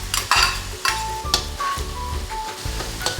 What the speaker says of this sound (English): Just quickly stir and saute it.